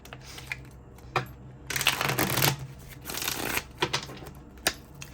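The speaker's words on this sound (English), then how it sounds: "I'm going to see if I can get this card, what comes out in this deck here." A deck of cards being shuffled close up, with a long riffling burst, lighter scattered flicks and taps, and a second, softer riffle, all with no talking.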